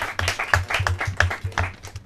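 Live audience applauding a quiz team at a Portuguese quiz final, a brief burst of claps with irregular sharp hits, moderately close and fairly steady across two seconds.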